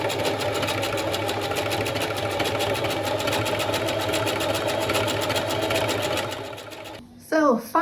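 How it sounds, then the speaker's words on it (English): A sewing machine stitching pieces of a homemade jacket together, a steady fast mechanical whir and rhythmic needle clatter running continuously before stopping, followed by a voice. "I'm literally just sewing this jacket together piece by piece."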